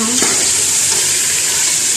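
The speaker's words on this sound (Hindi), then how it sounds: "अभी भून लेंगे।" Ground spices and whole spices for haleem frying in a pot, giving a steady loud sizzle with a brief stirring scrape near the start and no talk.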